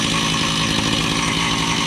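A Zenoah G43 two-stroke engine on a friction drive runs loud and steady right after starting, a dense continuous buzz with no pauses.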